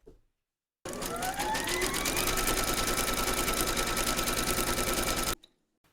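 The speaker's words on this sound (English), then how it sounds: "Pop your hoop into your machine and stitch round number 6" An embroidery machine stitches fabric held in its hoop, running as a fast, even mechanical chatter for several seconds after a short silence and stopping abruptly before the end.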